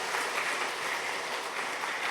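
A church congregation at a Sunday worship service applauds its women's choir, a continuous, dense spatter of many hands clapping at an even level from start to finish.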